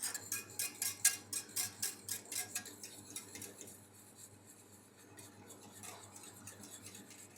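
Pectin mixed with sugar is stirred into pear heating in a pan, giving quick rhythmic metallic scrapes and taps that fade into a quieter, softer stir, faint and close.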